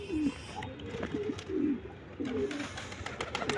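Pigeons coo in a loft: repeated soft, throaty rolling coos from several birds close by, with faint rustling and background chatter.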